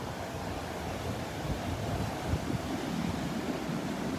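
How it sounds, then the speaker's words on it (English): Ocean surf rolls onto a windy Gulf beach at Delnor-Wiggins with a steady broadband roar, continuous wind buffeting the microphone and slight swells as waves break, with no voices. "The waves aren't consistent enough."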